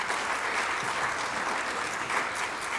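Steady audience applause fills a hall at a Rotary Club gathering in San Miguel de Allende, a dense, even wash of many hands clapping at moderate loudness with no voices standing out.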